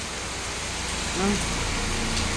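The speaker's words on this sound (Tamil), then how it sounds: "மழையை பாருங்கள் எப்படி பெய்யுதுன்னு" Steady rain falls without thunder as an even hiss close by, with a brief faint voice-like tone surfacing in the middle.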